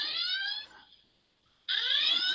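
A bright electronic alarm tone sounds, fades out into near silence, then abruptly starts again at full loudness.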